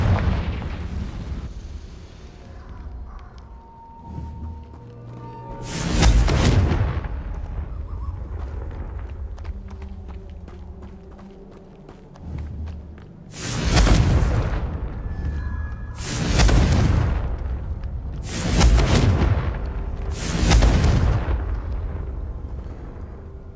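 Confringo spell blasts from Hogwarts Legacy, several loud booming explosions that burst out with broad roars, one near six seconds and then four in quick succession late on, over a rumbling background of game music and ambience.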